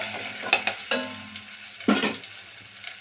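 Milmaker curry with turmeric being stirred in a pan, several distinct scraping strokes of a spoon over a gentle sizzle, close and uninterrupted by talk.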